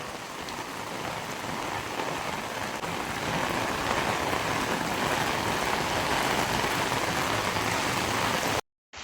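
Steady heavy rain falls continuously outdoors, a dense broadband hiss that stays loud throughout before cutting out briefly at the very end, with no talk.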